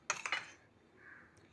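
Cutlery clinks against a dish as cooked, washed sago pearls are added to a mango mixture, a quick cluster of close metallic taps followed by faint quiet handling.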